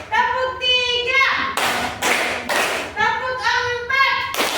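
A classroom group of children claps short bursts in a counted rhythmic pattern led by a teacher, the sharp claps alternating with children's chanted voices, loud and close.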